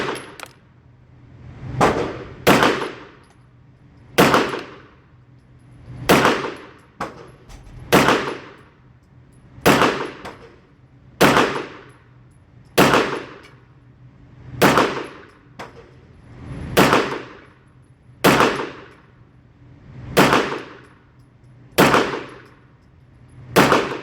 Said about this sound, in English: I'll be shooting at target number 3